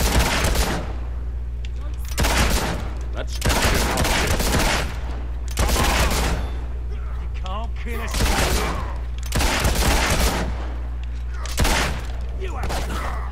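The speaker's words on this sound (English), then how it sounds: "Shoot my way through here like a gunslinger" Gunfire rings out during Fable 2 gameplay in roughly six dense bursts of rapid shots a second or two apart, loud and close over a steady low hum, with a voice heard between bursts.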